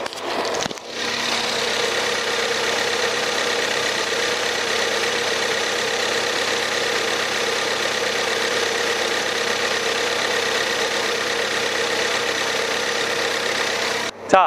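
A 2014 Ford Fusion 2.0 EcoBoost engine idles steadily with the hood open, a smooth, quiet, even hum with faint mechanical ticking that holds unchanged throughout, close to the engine bay.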